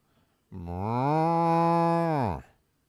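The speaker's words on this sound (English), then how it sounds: "The cow goes." A single long, loud cow moo with a clear, steady harmonic tone, heard alone and close, swelling in and holding for about two seconds before cutting off, between play-by-play commentary of an Orioles–Angels baseball game.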